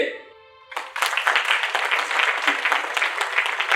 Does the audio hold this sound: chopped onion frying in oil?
no